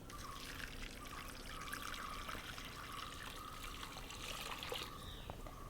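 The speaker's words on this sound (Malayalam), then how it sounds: "ചൂടുവെള്ളം ഒഴിപ്പിക്കുക" Hot water poured into a pot of chicken Bukhari rice, a steady close trickling pour running for several seconds without talk.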